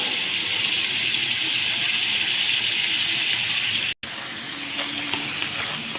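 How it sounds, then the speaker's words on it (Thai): Water poured steadily into a pot of pork and papaya curry, a continuous close gushing rush with a brief break near the end. "เดี๋ยวเราจะเติมน้ำเปล่าลงไปค่ะ"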